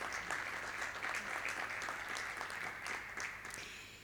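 Steady applause from a crowd, a dense wash of clapping that carries on throughout and fades slightly at the end.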